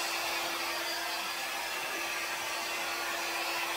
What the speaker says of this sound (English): So I'm taking my hair dryer here.